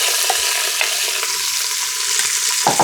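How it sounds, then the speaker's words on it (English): Leeks, onions, jalapeño and garlic sizzle loudly in a hot pan just after being dumped in, a dense, bright hiss that continues alone throughout with faint stirring scrapes. "we're gonna dump in our leeks, onions, chili pepper, which right now is jalapeno, and our garlic"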